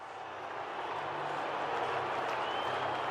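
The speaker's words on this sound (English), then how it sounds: "Let's have a listen to the crowd." Football crowd at an AFL match roaring as the Essendon Bombers run out onto the ground, a broad, steady distant wash of cheering and clapping with no clear talk.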